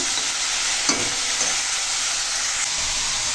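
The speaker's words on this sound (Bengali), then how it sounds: "এখন তেল গরম হয়ে গেছে আর এই মেখে রাখা ঢ্যাঁড়সটা দিয়ে দিলাম" Hand-mixed spiced okra drops into hot oil in a home kitchen, giving a continuous close sizzle and hiss with a couple of brief stirring clinks early on.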